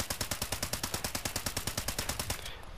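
Rapid automatic gunfire from the video game Fallout 76, a steady burst of about twenty evenly spaced shots that stops abruptly, loud and close with no talking.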